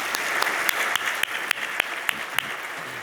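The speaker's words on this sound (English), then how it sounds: "Let's give both professors one more big round of applause" Applause for two professors at an industry awards dinner, a steady crowd clapping with a few crisp, loud individual claps from nearby cutting through at a regular beat.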